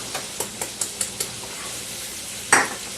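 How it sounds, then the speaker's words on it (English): Flour being stirred into sausage grease in a skillet, with a run of light metallic taps and scrapes from the utensil over a faint continuous sizzle, then one louder clatter; close by, no speech. "we got a flour in there, and we just stir it around, mix up a little bit"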